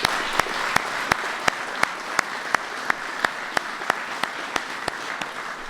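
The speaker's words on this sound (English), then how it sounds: "Give them all a big round of applause." Steady applause from a crowd at a White House ceremony for a NASCAR championship team, with a regular series of sharp, close claps standing out over the dense background clapping.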